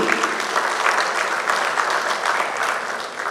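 A large audience at an ENT medical conference applauds, a dense, even wall of clapping sustained throughout and heard alone without speech.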